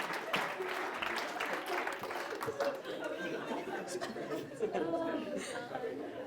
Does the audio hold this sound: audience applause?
yes